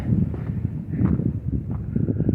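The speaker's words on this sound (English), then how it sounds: "A little windy up here, not too bad though" Steady wind buffets the microphone in low, gusty rumbles on a cliff top along the Appalachian Trail, with a constant blustery roar outdoors and no other clear sounds.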